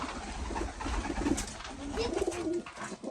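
Hünkâr pigeons coo softly in low, rolling bursts against a murmuring background, fairly close by.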